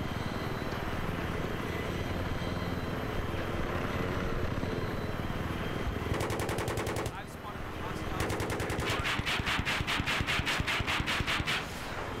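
Helicopter in a Battlefield match on Sharqi Peninsula, its steady rotor roar running throughout, with heavy machine-gun bursts rattling in rapid strings over it in the second half.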